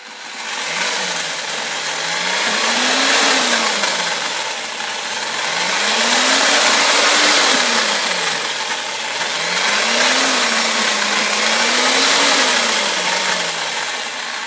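Snowcem masonry paint is mixed by a motorised mixer that whirs continuously and loudly, its pitch rising and falling in slow waves.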